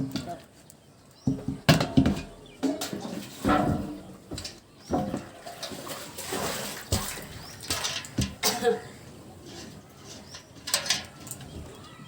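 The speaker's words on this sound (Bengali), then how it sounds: "আমার অ্যালোভেরার গাছে জল যাক, গরম গরম জল।" Hot water gushing from a water tank pipe onto an aloe vera plant, irregular splashing and pouring bursts that rise and fall over several seconds, fairly near.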